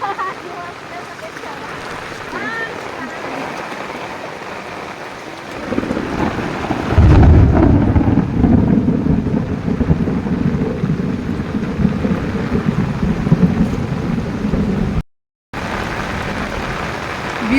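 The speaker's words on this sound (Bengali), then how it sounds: "বৃষ্টিটা হচ্ছে" A heavy monsoon downpour with rumbling thunder: a steady rain hiss builds into a loud, deep, close thunder roll that carries on under the pouring rain, followed by a brief silent gap and more rain. People talk at times.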